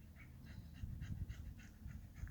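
A dog pants quickly and rhythmically close by, short breathy puffs repeating at a steady pace over a low background rumble, fairly quiet and with no talking.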